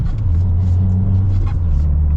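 The turbocharged engine of a 2023 Subaru WRX Limited with a manual gearbox drones and rumbles steadily at close range from inside the cabin, under someone talking.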